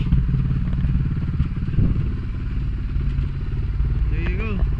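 Suzuki DR350 motorcycle, painted flat black, idling close by with a loud steady thumping single-cylinder putter throughout, while a voice speaks over it near the end.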